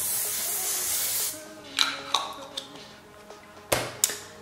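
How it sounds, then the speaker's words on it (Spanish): Makeup setting spray is misted in one long hiss, followed by a few short sharp spritzes and light taps, close and clear. "Ahora colocamos un poquito de setting spray"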